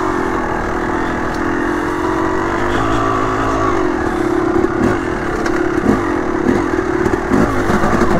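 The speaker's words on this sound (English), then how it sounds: "Oh, he's gonna put your bike down a mountain." A dirt bike engine drones loud and steady at close range on a mountain trail, with a rough low rumble, slight rises in revs and some clatter toward the end, no talking.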